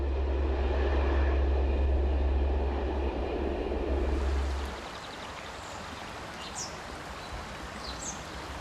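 An SNCF CC 72000 diesel locomotive hauls its train at full power up a long climb toward the Sauvages tunnel, a loud, deep rumble that abruptly drops away partway through, leaving a softer rushing hiss.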